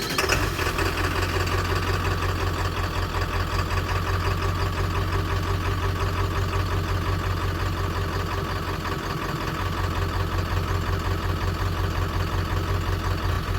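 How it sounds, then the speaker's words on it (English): A Ford OBS 7.3 Powerstroke diesel engine idles steadily nearby, its low rumbling clatter continuous and even throughout with no talking. "you really want to let it warm up and you really let it just sit and idle."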